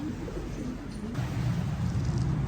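Domestic pigeons coo softly from a loft, low rolling purrs that grow steadier and louder in the second half, close by with faint background noise.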